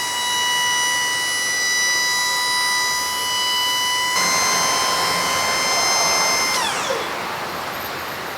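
Electric-hydraulic pump on the steel dump body of a 2001 Dodge Ram 3500 with a 5.9 Cummins whines steadily with tonal harmonics, rising in pitch near the end before cutting off and dropping away.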